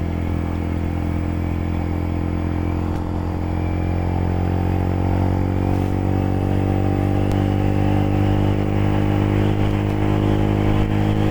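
Royal Enfield Interceptor 650 motorcycle ridden on a foggy road near Khopoli, its engine droning steadily and loud throughout with a low rumbling exhaust note and constant wind noise.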